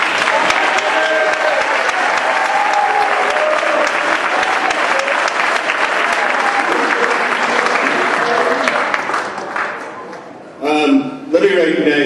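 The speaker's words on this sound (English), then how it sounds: "let us give a rousing applause to Coach Birdie." School district board meeting audience gives sustained, loud applause for Coach Birdie, a dense continuous clapping that fades out, followed by a brief voice.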